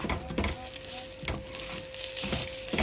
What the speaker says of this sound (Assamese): এনেদৰে ভাজি আপুনি পানীখিনি শুকুৱাই ল'ব